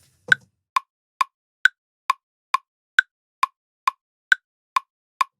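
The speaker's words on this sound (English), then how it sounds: "now you can hear if I turn on the metronome" Steady metronome clicks tick alone at an even pace, a dozen sharp dry beats in three-beat waltz time within an electronic music production session, with no other sound between them.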